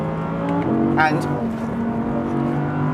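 Audi R8 supercar's mid-mounted 5.2-litre naturally aspirated V10 accelerating on a race track, a loud sustained engine note rising in pitch under a voice.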